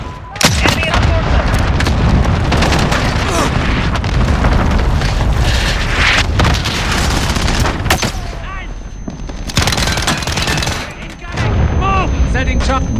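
Repeated heavy explosions from an allied cluster strike in a military video game boom loudly and densely over about thirteen seconds, mixed with gunfire and a brief voice.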